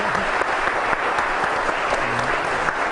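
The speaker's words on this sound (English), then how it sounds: "How about a nice big round of applause for them?" Studio audience applauding on a talk show, a continuous dense patter of clapping at a fairly loud, even level with a faint voice briefly underneath.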